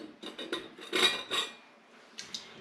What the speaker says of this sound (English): fill the jars up with my potato pieces